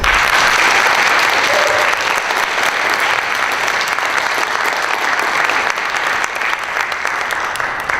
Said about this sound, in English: I would like to have a round of applause for them